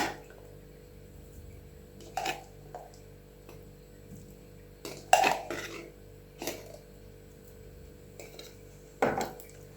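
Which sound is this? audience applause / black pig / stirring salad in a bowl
stirring salad in a bowl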